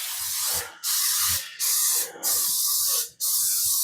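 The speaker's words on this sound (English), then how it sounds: "I'm going to take some butter flavor spray, cooking spray. I'm going to spray the crap out of the bottom." Butter-flavor cooking spray aerosol spritzed onto the bottom of a pizza pan in four close, loud bursts of hissing spray separated by short gaps.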